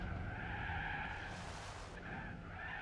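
Tires screech in a sustained skid as a car snaps into oversteer in Gran Turismo 4, a steady squeal with engine drone beneath that eases slightly before swelling again, with no talk over it.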